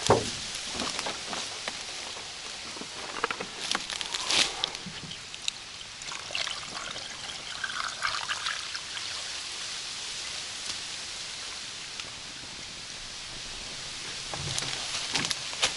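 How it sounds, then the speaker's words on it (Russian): Water pours and splashes steadily into a cooking pot, a continuous close trickling stream with small droplet patters, with no talking. "и заливаем водой"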